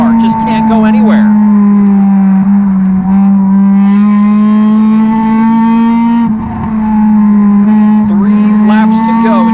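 NASCAR Division III enduro race cars screaming around the track, one engine's loud sustained high-revving drone dominating up close with other cars audible, under a commentator's talk.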